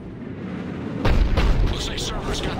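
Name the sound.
Cerberus cannon firing in Mass Effect 3 video game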